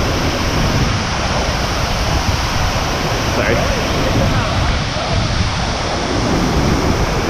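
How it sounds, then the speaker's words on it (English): A large waterfall pouring heavy volumes of water near the summit of Thailand's highest mountain, a loud, steady broadband roar filling the whole clip, with a brief spoken word over it. "this is where the biggest waterfall is right now. There's so much water coming off."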